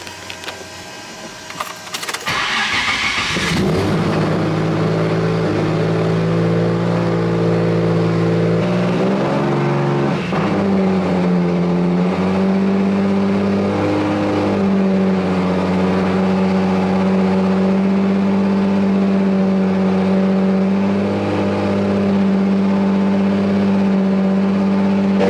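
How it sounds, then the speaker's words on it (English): A BMW M340i engine idles and is held at steady raised revs to warm the oil, a loud, continuous, close drone with a low steady hum and a brief rise around ten seconds; a short clatter comes just before the engine settles into it. "Let me actually put some heat in the engine."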